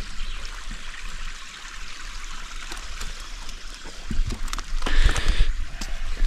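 Steady rushing of a river flowing in the Vosges mountains fills the clip, a continuous broadband wash that swells a little louder near the end, with no voices.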